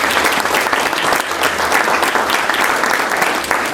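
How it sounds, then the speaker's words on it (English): An audience at an Atlanta Muslim young professionals formal gala applauds the volunteers, with dense, steady clapping filling the room throughout. "can we get a round of applause for all the volunteers who really made this happen tonight?"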